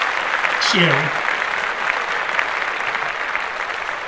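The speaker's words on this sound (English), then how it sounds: "Let's clap that up." Dense audience applause fills the whole stretch at a steady level, while a voice talks briefly over it near the start.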